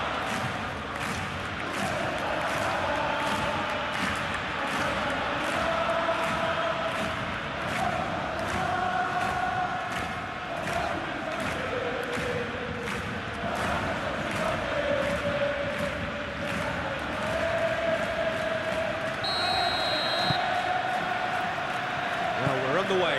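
A capacity stadium crowd in a football video game simulation of Barcelona against Atletico Madrid in a Copa del Rey semi-final keeps up a steady, dense roar with rhythmic chanting and claps throughout, under commentators talking.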